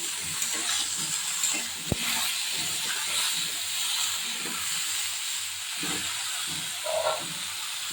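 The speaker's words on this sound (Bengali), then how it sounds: "বেগুনগুলো ভালো করে ভেজে নেবো।" Eggplant pieces fry in a pan with two green chillies, giving a continuous bright hiss and sizzle. There is one sharp click near the start and a few soft stirring knocks over it.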